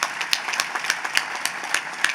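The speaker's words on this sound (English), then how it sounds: "Let's give them a round of applause." Scattered applause at a college commencement ceremony, a thin patter of claps from the audience with a few crisp, separate hand strikes standing out, fairly soft and brief.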